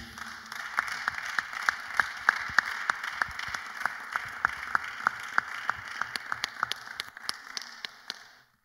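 An audience claps at a Bible study gathering, a soft, fairly distant patter of many hands with sharper individual claps standing out, continuing steadily for several seconds before trailing off.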